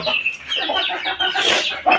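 Young rooster chicks recovering from illness give quick, close clucks and chirps in short bursts.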